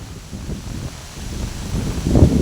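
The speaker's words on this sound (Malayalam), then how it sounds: "നല്ല കാറ്റും മഴയാട്ടോ" Strong wind and rain sweep a riverside during a crab-catching outing, heard as low, rumbling gusts buffeting the microphone that build louder in the final moment, with no voices.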